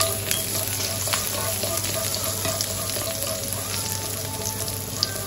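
Garlic frying in a pan on the stove, a dense continuous sizzle with crackling pops and a faint steady hum beneath, close and even throughout, no talk.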